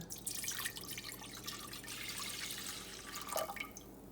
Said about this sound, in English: We have our 500 milliliters of vinegar right here. We are going to pour this in.